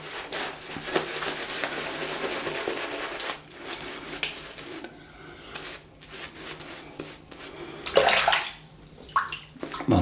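Tap water running and splashing nearby while a Yaqi Starry Night 28mm brush works up a lather of Iron Brew shaving soap, a steady close wash with brief quiet gaps and a louder burst near the end.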